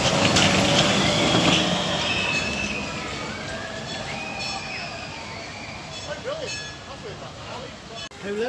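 Runaway Mine Train roller coaster at Alton Towers running along its track, a steady rumbling rail roar with wheel squeals and rattling that fades slightly, with people talking over the ride.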